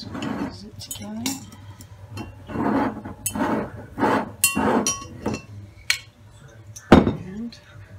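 A rabbit wine opener's foil cutter is squeezed around a wine bottle neck, giving a series of close clicks, clinks and glassy taps between bursts of talk, with a sharp clink near the end.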